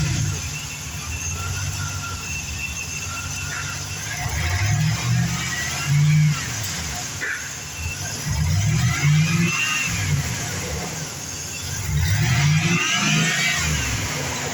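A 2000 Chevrolet Silverado engine runs at a steady idle, then revs up in three rising surges, loud and close with no talking.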